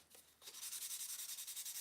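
A tobacco pipe is sanded by hand with fine-grit sandpaper, a soft rhythmic scratching of rapid back-and-forth strokes, steady and close but faint, with no talking.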